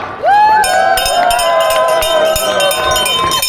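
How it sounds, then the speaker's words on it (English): Crowd cheering along a street parade route at a birthday celebration in Stratford, a loud sustained roar of voices and whoops rising in at once and holding steady, with children's shouts mixed in. "Let's cheer the High Street crowd."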